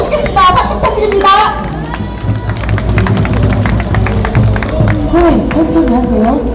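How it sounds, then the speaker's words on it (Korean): A crowd at an outdoor rally in front of the Seoul city council building claps and cheers as a patriotic singer is welcomed onto the stage. Loud scattered clapping and chatter run throughout, with voices calling out over it. "박수 부탁드립니다."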